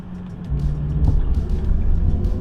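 Subaru Outback engine idling just off the freeway, a steady low rumble with a smooth, even tone and no fluctuations, close and continuous throughout.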